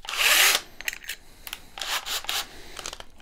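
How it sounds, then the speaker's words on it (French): A large-diameter wood bit boring a hole through a door for a lock, with short whirring, grinding bursts of drilling interrupted by brief pauses, close and fairly quiet. "Je viens percer mon trou donc en utilisant le centre que j'ai fait."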